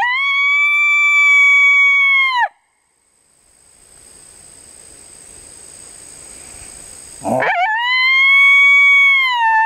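Electronic FoxPro caller playing coyote howls outdoors, two long, loud, wavering howls separated by a quiet gap with faint distant background.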